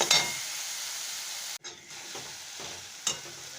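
Spice paste for a prawn and pointed gourd curry fries and is stirred in a pan, giving a continuous close hiss with a few sharp scrapes and a brief cut-out midway before the sizzle resumes, with no voices.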